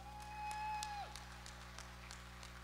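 Applause from the audience at a Para shooting competition, women's 10m air rifle standing event; scattered, sparse clapping rising after a tonal sustained hum fades, steady and moderately distant throughout.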